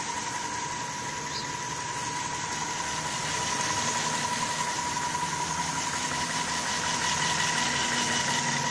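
A homemade electric bike's motor spins the tyre with a steady mechanical whir and a constant tonal hum, slightly louder and denser in the second half, close and continuous with no voices.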